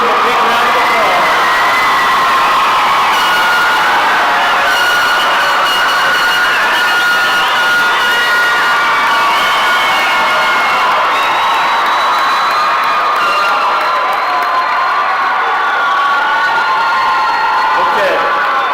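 A graduation audience in an auditorium roars with sustained cheering, whoops and clapping, loud and continuous throughout.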